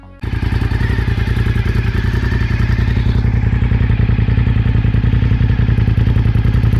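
A gear-driven valve train engine runs steadily and loudly up close, its dense mechanical clatter ticking rapidly over a deep continuous drone, with no voices.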